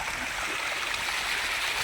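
Irrigation water flowing from a pond across a farm field, a steady continuous rushing stream close by with no breaks and no voices.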